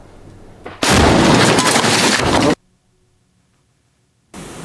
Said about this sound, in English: He does not want to take any chances and leaves cover to fire an RPG.